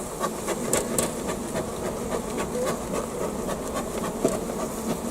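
Honey bees hum inside an opened beehive with combs exposed, a continuous moderate buzzing drone with scattered sharper flickers of individual bees close by, no talking over it.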